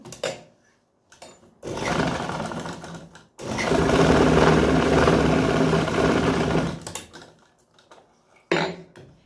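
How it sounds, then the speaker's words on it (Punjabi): A sewing machine stitches a salwar in three bursts of rapid, even mechanical chatter, short then long then a brief final run, with pauses between and no talking. "ਇੱਥੇ ਬਿਲਕੁਲ ਨਾਲ ਨਾਲ ਜਿਹੜੀ ਆਪਾਂ ਸਲਾਈ ਲਾ ਦਾਂਗੇ"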